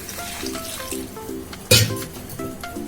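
Tomato chutney with water just added bubbles and sizzles in a pan, a steady close frying hiss with one sharp clatter partway through.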